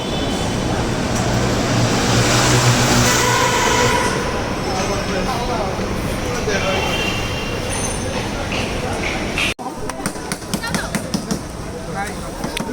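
A Dhaka metro rail train runs on the way to Motijheel, a continuous loud rumble and rush of wheels and motor noise with a brief dropout near the end, then rattling clatter resumes.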